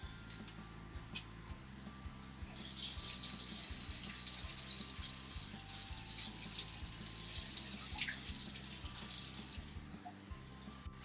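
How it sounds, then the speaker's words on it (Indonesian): A running water tap in a food laboratory streams steadily under hands being washed, starting after a quiet stretch with faint ticking and continuing loud and close, then easing off near the end. "panelis diwajibkan untuk mencuci tangan sesuai anjuran dengan 5 langkah tata cara cuci tangan"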